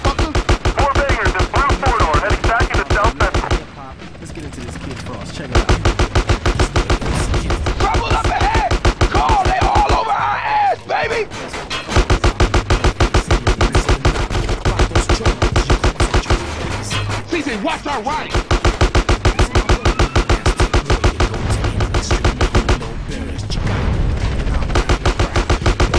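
Rapid bursts of gunfire in Grand Theft Auto: San Andreas, loud and dense sustained volleys broken by a few short pauses, with game character voices shouting in between.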